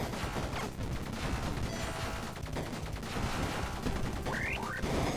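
Rapid automatic gunfire from the video game Bleed rattles in a continuous dense stream, loud and close, with brief synthetic effects rising near the end.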